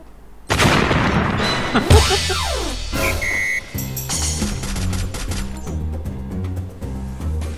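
Loud video-game gunfire erupts after a quiet start: heavy booms and rapid automatic bursts over layered game sound effects and music, continuing through to the end.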